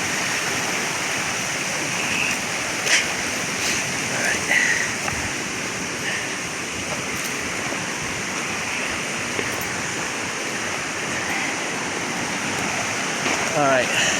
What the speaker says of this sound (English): But then there are distributary streams, like this one right here. More calmer than the one over there.